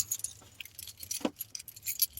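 A bunch of house and car keys jangles up close, giving short bright metallic clinks and rattles in quick bursts over about two seconds.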